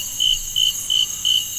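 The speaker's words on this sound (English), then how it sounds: "You know how them crickets go." Crickets on a snowy mountain pass: a cricket chirps in four evenly spaced bursts, a shrill, steady trill close by against a quiet background.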